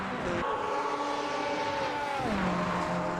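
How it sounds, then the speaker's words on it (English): GT race cars, a Corvette and a Porsche, battle for first place at Spa Francorchamps, their engines droning steadily with a sustained high whine that drops in pitch as one shifts or passes, fairly distant and continuous. "the battle for the first place in the GT cars, as that Corvette is fighting that Porsche"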